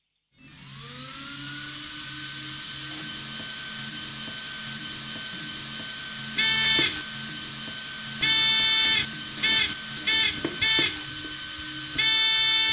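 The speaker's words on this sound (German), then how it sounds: "Und dann zeige ich euch das nochmal mit einem Summer, also mit einem Tongeber." A small buzzer tone generator in an RC car, switched on by a micro servo over a steady whirring motor hum, sounds in several short bursts of different lengths.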